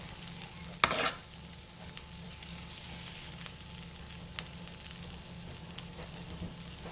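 A haunch of venison sears in browning butter in a pan, starting with a sharp clatter as it goes in, then settling into a quiet, even sizzle with faint stirring.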